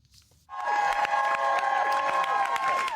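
A crowd at a campaign office in Wilmington, Delaware bursts into cheers and applause for Vice President Harris after a quiet moment, loud and sustained with shouting voices and whoops over the clapping.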